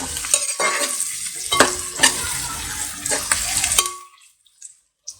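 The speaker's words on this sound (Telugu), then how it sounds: "ఉల్లిపాయలు చక్కగా దోరగా వేయాలి. ఒక ఇంచు ఇది కొద్దిగా సాల్ట్ వేసుకుంటే ఉల్లిపాయలు తొందరగా వేగుతాయి అన్నమాట." Sliced onions fry with a little salt in a pan for a village-style farm chicken curry. A spoon scrapes and stirs in uneven strokes over a soft sizzle, then the stirring stops and near-silence follows.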